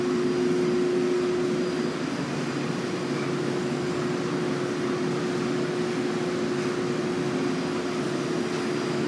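A 29-horsepower elevator machine room motor in a 12-story dorm runs as a loud, steady drone with a strong constant hum and broad noise, unchanging throughout.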